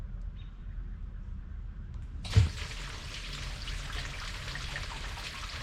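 Water gushes from a garden hose into a driveway sprayer tank outdoors, a steady broadband rush that starts abruptly with a thump partway through and continues unbroken after a quiet lead-in.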